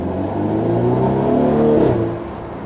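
A 2018 Mercedes E300 coupe's four-cylinder engine idles and revs steadily, with low throaty exhaust pulses and a soft burbling pop near the end, close and continuous.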